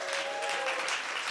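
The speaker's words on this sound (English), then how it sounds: "Another round of applause for Brendan and Trevor." An audience at a live rockabilly club show applauding for two musicians, a brief dense burst of steady clapping from a small crowd.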